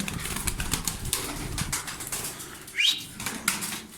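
A tumbler pigeon's wings flap briefly and loudly near the microphone, a sharp whir standing out over a steady background of rustling and noise.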